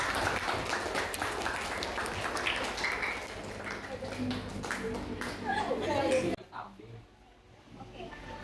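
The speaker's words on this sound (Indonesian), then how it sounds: "Ya, tepuk tangan dulu dong." Students in a classroom lesson clap for a presenting group, with steady scattered applause mixed with voices and chatter that breaks off abruptly near the end, leaving faint room noise and a few taps.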